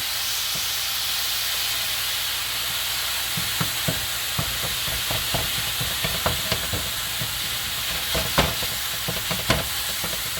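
Venison chorizo sizzles steadily in a hot pan while a utensil breaks up the ground meat, adding repeated close scraping clicks and taps over the continuous hiss, with no talking.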